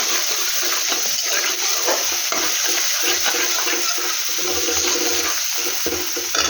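Ginger, garlic and onion paste hits hot oil with a bay leaf in a cooking pan, giving a steady, close frying sizzle with occasional bubbling.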